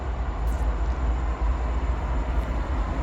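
Norfolk Southern freight train 18W rolls along the main line at Bluefield, West Virginia, giving a steady, heavy low rumble that holds throughout with no voices.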